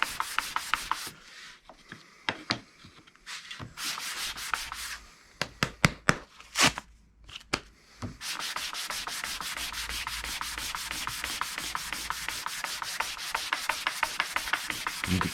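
A wooden coaster is sanded by hand with 220 grit sandpaper, giving close, dry rubbing strokes: scattered short scrapes at first, then a steady run of quick, rhythmic back-and-forth passes.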